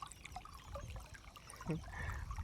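Water flowing through a pipe filled to the brim, a soft steady trickle and gurgle with a brief pouring burst near the end, faint and without talk.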